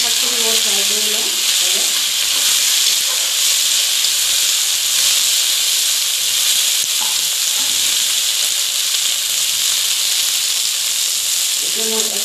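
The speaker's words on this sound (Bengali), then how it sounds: "ঢেকিয়া শাকখিনি মই ফ্রাই করে লম" Fiddlehead fern greens (dhekia shak) frying in a pan with browned onions give off a steady, loud sizzle and hiss that holds throughout, with occasional soft stirring sounds.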